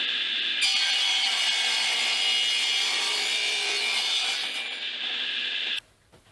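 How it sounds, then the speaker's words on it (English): A crosscut saw cuts a 2x4 board to length: a steady, loud rasp of blade through wood that runs for about five seconds and then stops abruptly. "the first thing I want to do is cut this 2x4 down to length"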